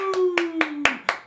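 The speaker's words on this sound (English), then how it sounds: "Everybody clap your hands together." Children at an education program clap their hands together six times in an even, steady beat, each clap sharp and close, while a voice sustains a tone underneath.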